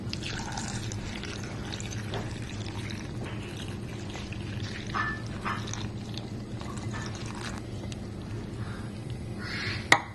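About one and a half cups of water poured into a pot of fava beans for Middle-Eastern ful medames, a soft continuous trickle in a quiet kitchen with a brief clink near the end.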